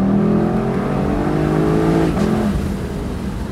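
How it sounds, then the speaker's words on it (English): A 2024 Lexus LC500's naturally aspirated V8 revving hard under acceleration, then a sharp exhaust crack on the upshift as the pitch drops, loud and close. "That crack on the upshift is all day long."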